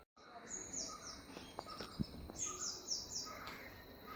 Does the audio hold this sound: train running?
no